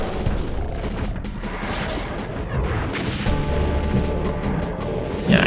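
Energy weapons and missiles fire in the video game Scythe 2 as a dense, continuous barrage of booming blasts and crackling shots. The impacts overlap with no pause, loud and close.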